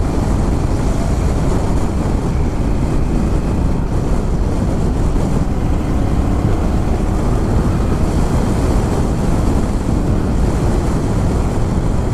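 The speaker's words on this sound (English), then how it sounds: "Damn, it's windy." Strong wind roars and buffets the microphone without pause, a dense, steady rush mixed with water and engine noise.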